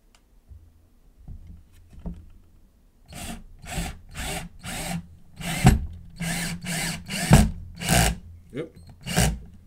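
A drill whirs in a series of short, loud bursts, driving a screw into wood for a drawer with brief pauses between each push.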